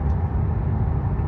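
BMW G20 330e plug-in hybrid with catless downpipe and catback exhaust, a steady low rumble droning continuously in the background at moderate level.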